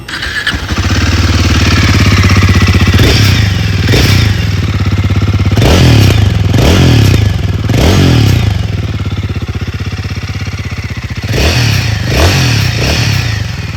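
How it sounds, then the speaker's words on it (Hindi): Royal Enfield Guerrilla 450 Apex motorcycle, 2026 model, starting up and idling with a steady thumping exhaust, broken by several sharp throttle blips that rev up and fall back, loud and close with no talk. "आइए अभी सुन लेते हैं इस बाइक की एग्जॉस्ट नोट।"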